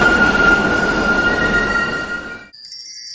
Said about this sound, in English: Subway train.